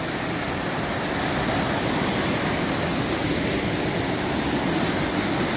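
Steady rushing water of a river beside a small wooden bridge along a valley hike with waterfalls and streams, a continuous broadband flow that stays close and loud throughout, with no voices.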